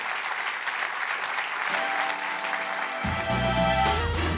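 A talk show audience breaks into sustained applause, a dense wash of clapping that carries on as music swells in underneath toward the end.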